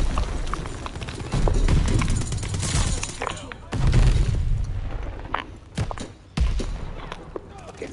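A grenade explodes in Call of Duty: Vanguard, one of several heavy booms during an online multiplayer match, with gunfire and footsteps between the blasts.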